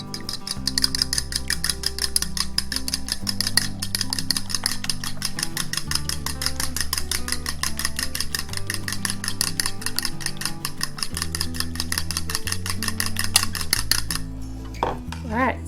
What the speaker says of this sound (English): Now this calls for beaten eggs